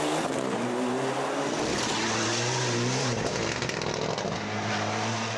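A Mitsubishi Evo 9 rally car drives hard at speed on a stage of the Donegal Harvest Rally, its engine holding a loud, steady drone with shifting pitch throughout, with no voices.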